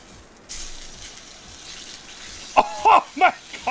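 A steak searing in vape juice in a smoky basement gives a steady, fairly faint hissing sizzle that begins abruptly, and a voice breaks in over it near the end.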